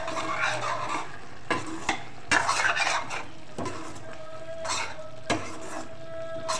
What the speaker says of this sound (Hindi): अब इसे आप खूब अच्छी तरह मिक्स करें।